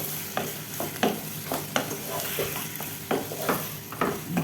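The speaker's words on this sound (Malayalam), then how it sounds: "ഈ ഉള്ളിയും ചിക്കനൊക്കെ നന്നായിട്ടൊന്ന് യോജിച്ച് വരുന്നവരെ ഇളക്കി എടുക്കുക." Chicken pieces and onions frying in a pan for a spicy achari chicken curry, stirred with a spatula that scrapes in a steady rhythm of about eight strokes over a continuous close sizzle, no talking.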